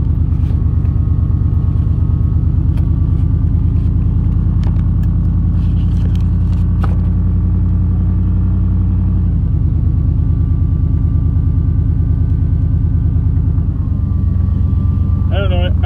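A car driving, heard from inside the cabin: a loud, constant low engine and road rumble that shifts pitch a couple of times as it changes speed, with no talking.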